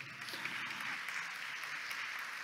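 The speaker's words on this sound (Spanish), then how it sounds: "Fuerte aplauso para ella." Audience applause at a symposium on women's leadership in engineering, greeting a sociologist as she is introduced; steady, fairly faint clapping fills the whole stretch with no voices over it.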